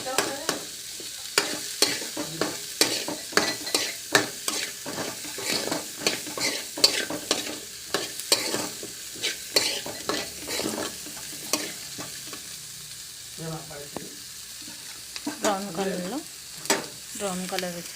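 Palak paneer curry fries in a pan while it is stirred steadily: a continuous sizzle under a rhythmic run of close scraping strokes that lasts throughout.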